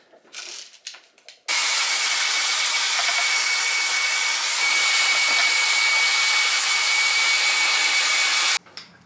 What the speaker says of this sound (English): I've part blow dried my hair